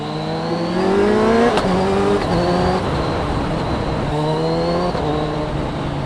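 A Kawasaki Ninja 1000SX motorcycle engine revving under load, a loud, steady, rising and falling roar with pitch climbing through gears, recorded close while riding.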